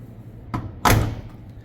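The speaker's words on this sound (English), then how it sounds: "This door frame has a bit of a bend in it, so when I close it," A truck door with a bent frame swung shut, a soft first knock followed by a louder solid slam with a short ringing decay, close and alone.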